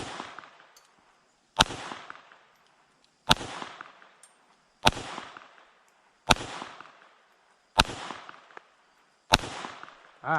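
Glock 44 .22LR pistol fired at an outdoor range, seven sharp single shots spaced about one and a half seconds apart, loud and close, each with a short ringing tail, no talking.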